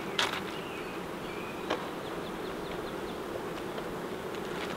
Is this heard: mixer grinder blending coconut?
no